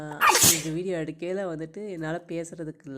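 A person with a cold sneezes once, loud and close, and then immediately starts talking.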